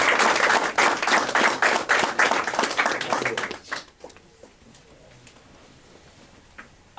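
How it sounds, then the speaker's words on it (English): An indoor audience at a Toastmasters club installation ceremony applauds the club officers with dense, loud clapping that fades out after about four seconds, leaving a quiet room with faint stray sounds. "shall we give them a thunder round of applause for rendering excellent service?"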